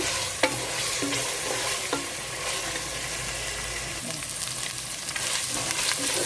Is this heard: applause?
no